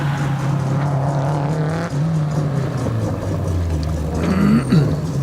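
A Subaru WRX Impreza race car at a lakeside hillclimb event gives a sustained engine drone that rises and falls with gear changes, mid-distance, and commentators talk faintly beneath it.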